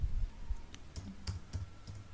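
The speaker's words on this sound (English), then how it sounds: "I am just typing any English word here." Keys on a computer keyboard are tapped in a short run of about eight sparse, light clicks at close range, irregularly spaced, with quiet background and no talk.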